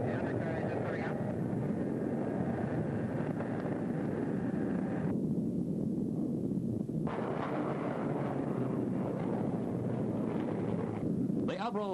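Avro Jetliner airliner climbing away after takeoff with its undercarriage retracting, a loud, steady broadband roar of engines and rushing air throughout, shifting in tone partway, with a voice speaking over it.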